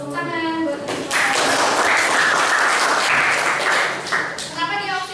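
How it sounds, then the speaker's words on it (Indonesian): Students in a chemistry classroom clap for their classmates, a loud burst of applause rising after a spoken prompt and lasting several seconds before fading as a teacher's voice returns. "Tepuk tangan buat teman-teman."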